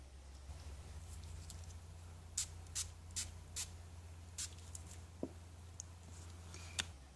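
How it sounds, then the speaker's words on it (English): Several quick, sharp spritzes from a spray bottle onto a handmade card, spaced irregularly over a low steady hum, fairly close. "then I'm going to turn it over and spray this side"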